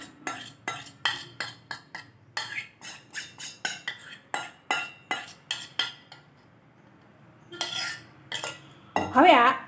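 A spatula scrapes cake batter from a bowl into a greased baking tin, giving a quick run of close, regular scraping and tapping strokes, a pause, then a louder burst of scraping at the end.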